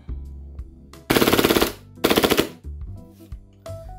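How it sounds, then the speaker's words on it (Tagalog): An airsoft gun fired on full auto into bubble wrap: two loud, rapid bursts of popping shots, each about half a second long, separated by mechanical clicks and handling noise of the gun nearby. "dito na lang natin ipuputok sa kanyang bubble wrap kasi medyo nakakaya sa kapitbahay dahil masyadong malakas tong putok ng unit na to"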